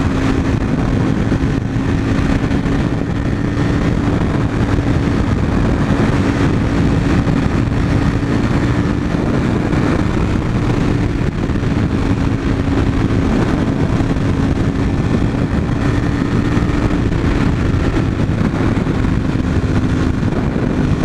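A car cruising in sixth gear gives a steady, loud engine drone with constant road noise, unchanging for the whole stretch.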